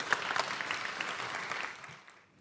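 An audience at a talk on God, hippies, the internet and AI breaks into lively clapping. The applause is moderately loud, then thins and fades to near silence after about two seconds, with no speech.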